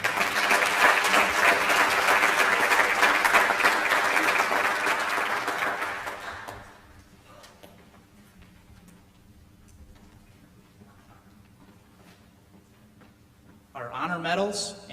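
Audience applause at a 2021 senior awards and scholarship ceremony, a dense, loud burst of clapping for about six seconds that drops away abruptly, leaving quiet room tone before a brief new burst of sound near the end.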